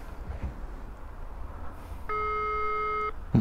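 A telephone ringback tone sounds once for about a second over low steady background rumble, a call to a German office near evening that goes unanswered.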